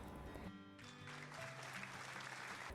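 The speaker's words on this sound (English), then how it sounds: "The audience applauds," Audience applause from a visual novel game, a short burst of clapping that swells in and holds at a steady level for a couple of seconds.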